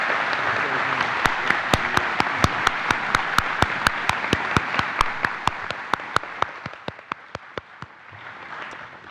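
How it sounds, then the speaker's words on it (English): At a NASA Marshall Space Flight Center honor awards ceremony, an audience applauds Outstanding Leadership Medal recipients: a steady crowd wash with sharp, regular nearby claps on top, fading toward the end. "let's have a round of applause for all of our Outstanding Leadership Medals"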